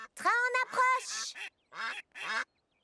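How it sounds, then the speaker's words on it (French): Cartoon ducks quack on railway tracks in an animated scene, several short nasal calls in quick bursts mixed with character voices. "Oh non, des canards sur les rails."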